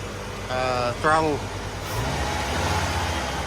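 A Ford F100's straight-six engine idles with a low, even rumble nearby, heard under a short stretch of talk and then running on its own.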